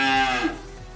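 A cow on a farm lets out a single loud, close moo that fades away within about a second.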